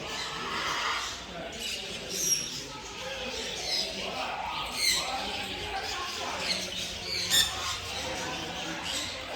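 A parrot calls at Yercaud with repeated shrill, harsh squawks at a steady pace through a busy outdoor background, as people talk nearby.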